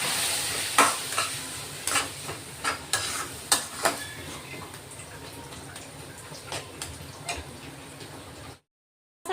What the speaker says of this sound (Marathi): ते आता परतून घेतो मसाल्यात।